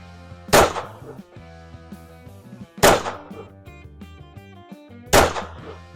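Three pistol shots at a shooting range target, each a loud sharp crack spaced roughly two seconds apart over a steady tonal background hum.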